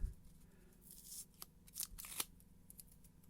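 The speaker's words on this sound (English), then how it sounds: "let's get rid of some tape" Packing tape peeled off a 2021-22 SP Authentic hockey card box: several short, sharp ripping bursts up close in a quiet room.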